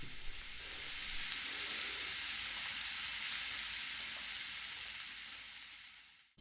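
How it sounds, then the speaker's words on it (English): Steaks sizzle and fry in hot oil in a preheated pan, a steady, dense crackling hiss that holds close and loud for several seconds before cutting off at the end, with no one speaking. "Make sure you preheat the pan so that the oil's nice and hot and the steaks sizzle right when you drop them in."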